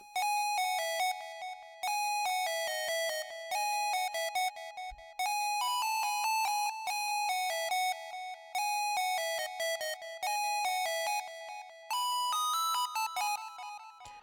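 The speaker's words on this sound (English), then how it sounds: "Then we have that GAMEBOY lead here." A bright Gameboy-style synth lead preset from Purity plays a simple stepping melody of short, buzzy square-wave notes in repeated phrases, alone and fairly quiet.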